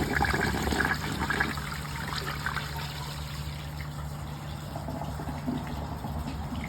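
A 1968 American Standard Cadet toilet flushes a rag and washcloth, with a steady close rush of water that stays loud throughout and eases slightly into a continuous trickling refill.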